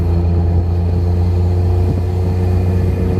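Suzuki Cappuccino kei car engine running under load, a steady close droning hum with a low rumble and little change in pitch.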